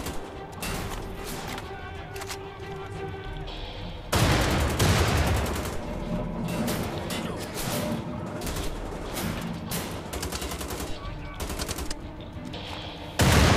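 Automatic weapon fire in Wolfenstein The Old Blood, bursts of rapid shots rattling loud and close, growing heavier midway and continuing in repeated volleys with crashing impacts.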